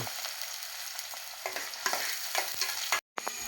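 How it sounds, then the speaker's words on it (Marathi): Scraping and stirring of a spiced onion-tomato mixture in a sizzling pan, with a steady frying hiss and irregular clinks of a spoon, close up. "आता यास परत सगळा ढवळून घेतलंय"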